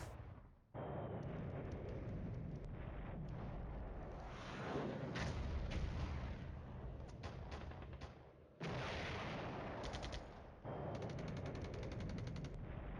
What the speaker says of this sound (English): Now the artillery falls well after I've killed everything else.